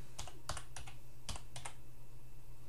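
Keys on a computer keyboard are struck in a Linux console, sounding as a quick, faint burst of about a half-dozen separate clicks in an otherwise quiet room.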